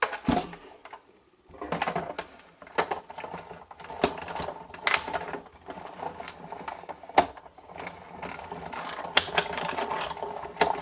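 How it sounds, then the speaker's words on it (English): Big Shot die-cutting machine cranking layered paper scraps through its rollers, giving a steady run of dense mechanical clicks and ratcheting taps, close and fairly quiet, with no voices. "And run the whole lot through my big shot."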